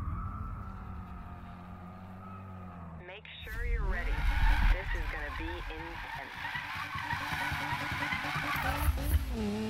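Tires skid and screech through a drift in the Need for Speed racing game, with a steady engine roar that swells louder midway and keeps going to the end.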